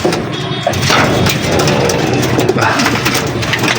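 A white pigeon coos nearby over a constant rumbling engine-like background, with some faint voices mixed in.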